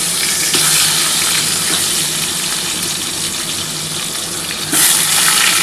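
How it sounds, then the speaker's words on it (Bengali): Potato pieces frying in oil for a spicy chicken curry, a loud continuous sizzle and hiss that swells at the start and again near the end, close by and without talk. "একটু আলুটা ভেজে নিই বন্ধুরা"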